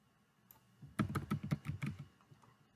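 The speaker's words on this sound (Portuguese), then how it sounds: "vou digitar aqui cidade" Close, quick typing on a computer keyboard, about a dozen crisp key clicks in a rapid burst that starts after a single early tap, with no talking.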